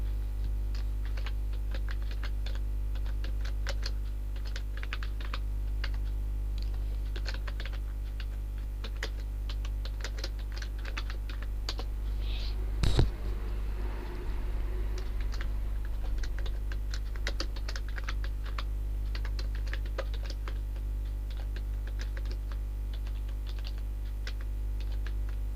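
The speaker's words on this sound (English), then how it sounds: "after finishing the typing, press 2 time enters" Quiet, continuous typing on a computer keyboard, with rapid light key clicks over a low steady hum and a single louder tap partway through.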